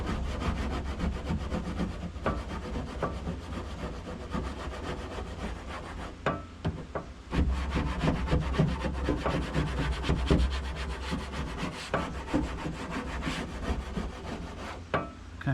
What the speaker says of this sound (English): you could go back to your plastic tool and just kind of start kind of scratching at it